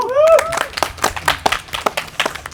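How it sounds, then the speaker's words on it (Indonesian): A small group on a walking tour in Bogor claps hands in a brisk, uneven burst of close, sharp claps, with a voice heard briefly at the start. "Tepuk tangan dulu dong."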